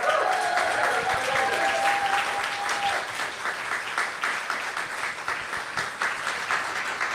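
An audience at a talk on socialism breaks into loud, sustained applause for several seconds, a dense wash of clapping that slowly thins out; a brief tone sounds at the start.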